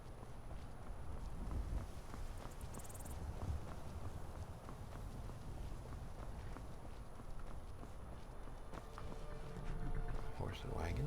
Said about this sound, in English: Horse and wagon.